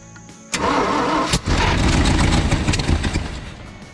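Old junkyard wood chipper engine cranking on a freshly connected battery, a loud nearby burst of starter churning that briefly dips, then resumes as a rough, uneven engine chug trying to catch before fading slightly.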